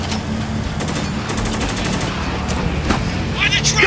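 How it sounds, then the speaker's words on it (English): Gunfire in the video game Spec Ops: The Line, bursts of automatic weapon fire and sharp shots crackling over a dense combat din, loud and close, with shouted voices mixed in. "We got contact! Fire at will!"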